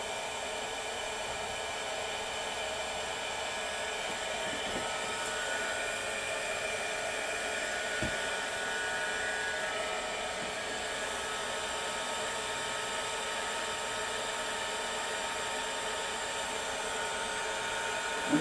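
Heat is applied to the metal near the engine kill switch on a power washer. A steady, even hiss like a blower runs unbroken and close for the whole stretch, with no talk.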